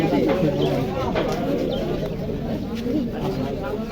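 Lotan pigeons coo softly in a pigeon keeper's loft, the low calls rising and falling beneath steady, loud nearby conversation.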